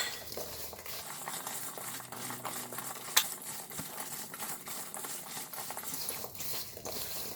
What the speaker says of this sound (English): just rub a little bit and then I will rinse it with water